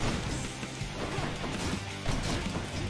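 Repeated smashing hits land on enemies in the action game Hades, dense and continuous impact sounds mixed with game effects and music, steady and loud throughout.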